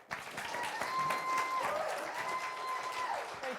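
Steady audience applause fills a civic event hall after a State of the City address, dense clapping sustained throughout at moderate distance.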